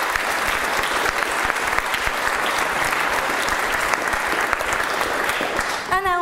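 Sustained applause from a debate audience, dense and steady clapping filling the room for several seconds before tapering off at the end.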